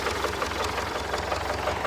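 An MTZ-80 tractor engine runs steadily while plowing a field, a close, loud diesel chug with a constant low throb and no voices.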